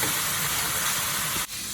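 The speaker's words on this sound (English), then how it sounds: "let these go ahead and brown up the rest of the way with our sausage" Sausage, green pepper and onion frying in a pan of sausage fat, a steady broadband hiss and sizzle close by that dips briefly near the end, with no talking.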